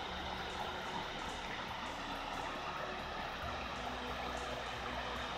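Continuous broadband rush of a running stream on the Finger Lakes Trail, steady and fairly soft, with no voices and a faint low hum underneath.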